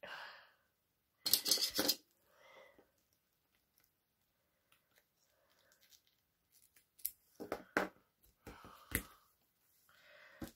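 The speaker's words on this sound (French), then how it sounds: "le ruban, il fait pile poil la largeur. Donc, on vient couper." Several close, crisp snips of scissors cutting ribbon, in short bursts separated by quiet pauses, with faint handling rustles and no speech.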